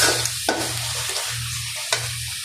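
Aire fish, a sea fish, sizzles in a hot pan with turmeric, cumin, coriander, mixed spices and salt, a steady close frying hiss broken by a few sharp stirring scrapes.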